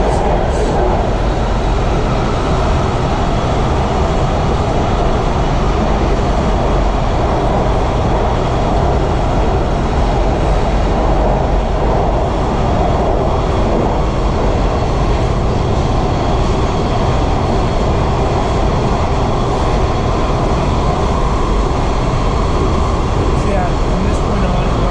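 WMATA Kawasaki 7172 Red Line metro train running underground, a loud, constant roar of wheels and motors filling the tunnel throughout, with a voice talking faintly beneath the noise.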